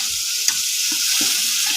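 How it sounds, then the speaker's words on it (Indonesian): Spice paste sizzles and is stirred in a hot pan for Indonesian cooking, a steady close frying hiss with a few soft scrapes of the spatula. "Tumis bumbune."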